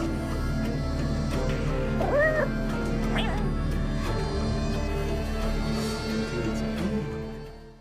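A cute cat in a game trailer gives a couple of short, rising meows over a steady bed of ominous music that runs throughout.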